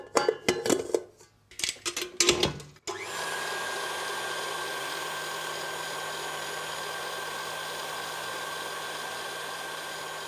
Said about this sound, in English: before I whisk these to soft peaks